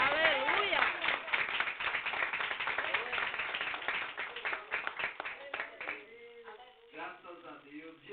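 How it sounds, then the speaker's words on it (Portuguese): Church congregation clapping for Jesus during a Portuguese-language service, rapid rhythmic claps under voices and shouting, fading toward the end as a single voice continues. "Aplauda Jesus que ele merece."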